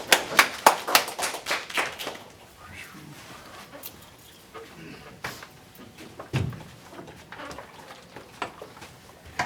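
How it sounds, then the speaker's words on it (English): A small sales meeting audience claps in a short burst of sharp, distinct handclaps near the start, thinning quickly into scattered claps, shuffling and room noise with occasional knocks. "Give them a round of applause, guys."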